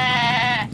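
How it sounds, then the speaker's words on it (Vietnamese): A goat bleats once at close range, a loud, wavering cry lasting under a second, heard during a ride along a path where the animal blocks the way. "Em dê, sao cản đường vậy?"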